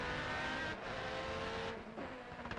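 Nissan and McLaren GT race cars racing in the 2002 Japan GT Championship, with a continuous loud engine roar that dips briefly as the cars pass.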